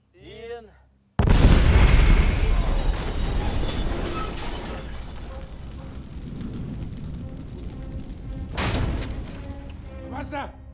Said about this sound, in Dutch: Was dat vuurwerk?